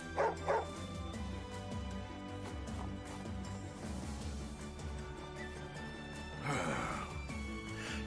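Dog barking and yipping in the strategy game Wargroove, a couple of short sharp yaps near the start followed by softer whimpering amid game music, with another brief burst of noise later.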